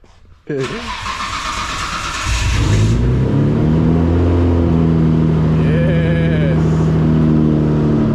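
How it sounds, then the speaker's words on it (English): A Nissan with an RB engine starts up with a sharp bark, then revs through its exhaust into a deep, loud rumble that settles into a steady idle with occasional throttle blips, and a voice speaks briefly over it. "That's what a RB should sound like."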